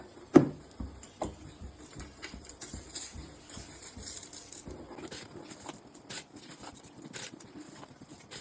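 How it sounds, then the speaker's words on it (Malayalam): Washed rice tipped into a pot for a Kerala-style vegetable biryani, giving a soft, scattered patter of grains with light scraping, quiet and close, with no one talking. "ഇനി അരി കഴുകി വെച്ചിരുന്നത് ഇതിലേക്ക് ഇടാൻ പോവാണ്"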